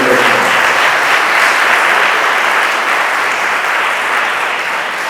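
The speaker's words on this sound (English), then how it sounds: "would you stand up so we can give you a round of applause?" An audience at a town hall meeting in Winston-Salem applauds, a dense, sustained clapping that fills the whole stretch and tapers off slightly toward the end.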